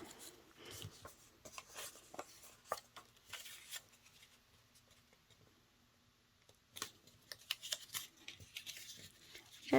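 Paper card tips being folded and burnished by hand, soft close rubbing, creasing and tapping strokes in short scattered bursts with quiet gaps in between.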